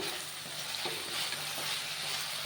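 Chopped vegetables for paneer butter masala fry over a low flame in a pan, giving a steady, close sizzle with soft stirring scrapes throughout.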